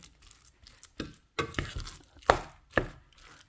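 A spoon works through a mixture of lumpiang shanghai filling in a bowl, giving a series of close, soft scraping and squelching strokes with a few sharper clacks against the bowl, quiet and irregular, with no talking.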